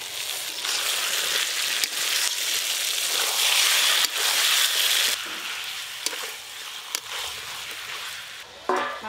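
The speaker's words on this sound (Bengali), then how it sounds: "এবার টমেটো কুচি দিয়ে দেবো।" Chopped tomatoes fry in a pan with a loud, dense hiss and sizzle that goes on steadily, broken by occasional knocks and stirring scrapes near the end, heard close with no talk.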